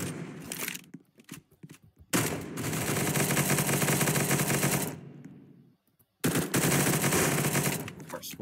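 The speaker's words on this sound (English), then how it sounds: "I shot dude and he did not take damage." Automatic gunfire in the video game CS:GO: long, loud sustained bursts of rapid shots, broken by short pauses and a near-silent gap, heard alone without talk.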